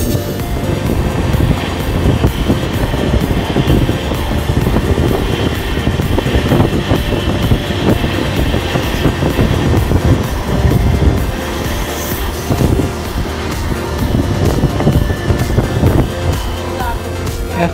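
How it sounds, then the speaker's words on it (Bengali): Siliguri-Jalpaiguri Road Express train pulling out of Aluabari Road Junction, heard from onboard as a steady, loud rumble of wheels and carriage with rattling and clanking throughout, no voices. "এখন আমাদের train Aluabari road junction station ছেড়ে বেরিয়ে পড়লো তার পরবর্তী হল্ট বা গন্তব্য উদ্দেশ্য"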